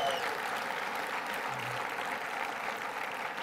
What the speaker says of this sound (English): I'm not gonna say another word until I get this really robust round of applause